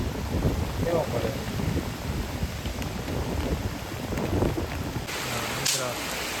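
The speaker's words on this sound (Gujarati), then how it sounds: "કમોસમી વરસાદ" Unseasonal rain falls with wind at a village home, a steady dense patter of raindrops with gusty rushing noise throughout and a low rumble near the end.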